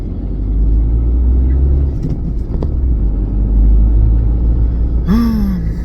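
Truck passing on a street, a loud low rumble that swells and holds through most of the stretch, with a few faint clicks and a brief squeal near the end.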